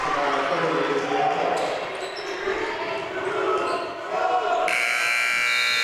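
A long buzzer sounds at a girls high school basketball game on senior night, loud over the roar of the gym crowd and basketballs bouncing, with voices throughout.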